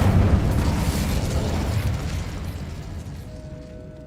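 A fiery Incendio spell blast erupts loudly at the start in the Hogwarts Legacy video game, a broad roaring burst that slowly decays over several seconds with no talk.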